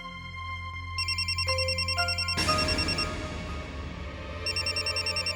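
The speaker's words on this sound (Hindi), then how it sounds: "उठाओ फोन।" A telephone rings with a repeating electronic tone, its warbling pattern cycling steadily and fairly close, with a brief burst of noise partway through.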